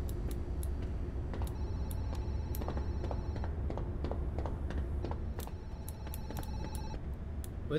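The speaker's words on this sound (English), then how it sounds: "There's a phone ringing." A telephone ringing in the video game Zoochosis, a faint electronic ring pulsing in two bursts beneath a constant noisy background scattered with small ticks and clicks.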